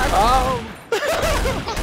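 Rapid gunfire bursts from the video game Trouble in Terrorist Town, with a sharp volley near the middle and another shot near the end; a player's voice is heard briefly at the start.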